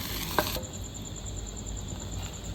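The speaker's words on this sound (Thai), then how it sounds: "เดี๋ยวผัดกันแป๊บนึงครับ" Curry paste sizzles and is stirred in a hot pan for a Thai pork stir-fry with long beans, giving a steady close frying hiss with a single sharp scrape near the start and no talking.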